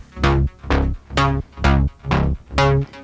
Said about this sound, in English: so that's the bass